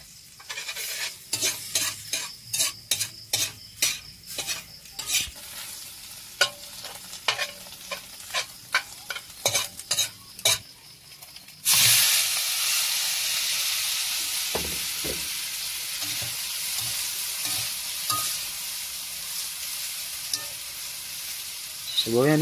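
Garlic sizzles in a hot pan while a utensil scrapes and stirs it in a rapid, rhythmic series of strokes, then gives way to a loud, steady frying hiss that holds close-up to the end.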